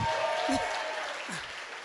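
An audience applauds at the welcome ceremony of an arts festival, with a steady wash of clapping throughout and a voice speaking briefly over it.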